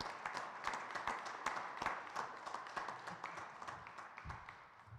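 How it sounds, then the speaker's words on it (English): An audience at a college men's forum claps, with individual hand claps distinct against a soft, fairly quiet background of scattered applause that thins out near the end. "How about a round of applause for that?"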